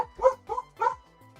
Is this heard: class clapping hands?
no